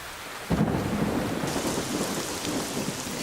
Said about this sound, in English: Vultures sit out the storm.